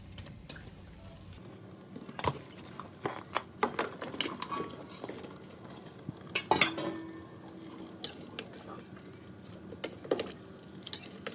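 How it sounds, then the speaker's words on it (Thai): Tomatoes and onions tipped into a pot of chicken soup, a scattered run of clinks, taps and clattering knocks against the pot over several seconds, close but moderately quiet. "เราก็จะใส่มะเขือเทศกับหอมใหญ่ไปลงไปค่ะ"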